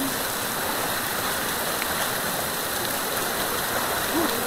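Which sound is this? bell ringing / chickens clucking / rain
rain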